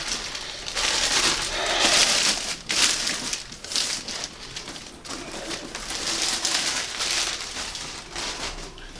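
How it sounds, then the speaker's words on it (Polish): A knife blade scratches and slits through packing tape on a cardboard box holding an ultrasonic vinyl record cleaner, with crinkly rasping bursts of varying loudness over several seconds. "Lekko natnę taśmę."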